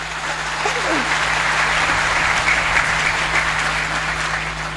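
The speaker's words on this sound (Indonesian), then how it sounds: "tepuk tangan untuk Nahdlatul Ulama" A crowd at a Nahdlatul Ulama halal bihalal gathering applauds, a dense, loud, sustained wash of clapping with a low hum beneath and a faint voice early on.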